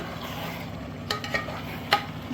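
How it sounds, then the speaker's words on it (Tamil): Chicken stirred into masala in a pot, a soft continuous sizzle with a few clinks of a spoon against the pot. "சிக்கன் ஆட் பண்ணது இந்த மசாலாவோட நல்லா மிக்ஸ் பண்ணி விடுங்க"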